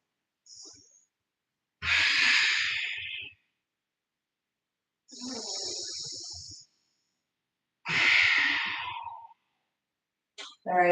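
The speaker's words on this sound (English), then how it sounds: "3 more deep breaths." Slow, deep breaths during a gentle yoga class: several long airy inhales and exhales spaced by silent pauses, close and fairly clear, with no talking over them.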